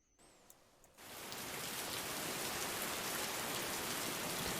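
Steady rain ambience from a video game sound system comes in after a second of quiet. It rises to a dense, even wash of falling drops that holds constant to the end.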